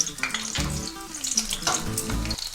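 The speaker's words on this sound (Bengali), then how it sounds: "এবার এই গরম তেলের মধ্যে আমি প্রথমে রসুন কুচিটা দিয়ে দিলাম" Chopped garlic hits about three tablespoons of hot oil in a pan for cauliflower Manchurian, giving a loud, steady sizzle with crackling spatter and a few utensil clinks near the pan.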